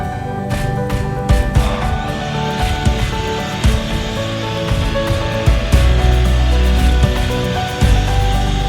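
A new piece of birch plywood is cut with a power saw, giving a loud, close, continuous grinding buzz with rhythmic surges and a low motor hum, and no talking.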